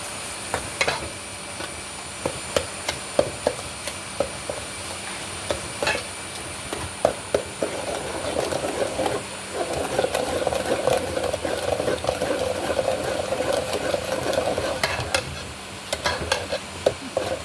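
Mixed fruit jam with sugar cooking in a pot on the stove, a steady soft sizzle and bubbling with repeated stirring scrapes and small clicks, no voices.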